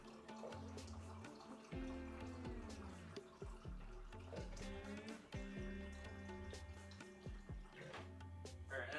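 A 16-ounce cup fills from a water dispenser as the stream splashes and burbles and its pitch rises, close by, with a steady tonal background behind it.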